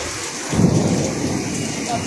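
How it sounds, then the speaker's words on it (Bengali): Heavy rain pours down in a dense, continuous hiss, swelling slightly louder after a brief moment, with no voices. "হেভি জোরে বৃষ্টি পড়ছে কিন্তু।"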